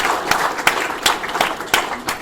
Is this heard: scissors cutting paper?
no